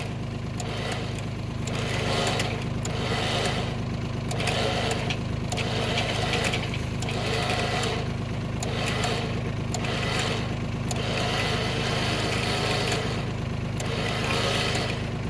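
A Traveller 9000lb winch on a Kubota LX2610 tractor winds its cable while hauling boulders, a steady mechanical whir over the tractor's continuous idling engine, with rhythmic pulsing in the higher tones throughout.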